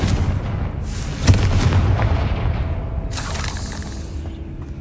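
A Confringo blasting spell explodes in the video game Hogwarts Legacy, a loud booming blast followed by rumbling debris and a second crackling burst, with no speech.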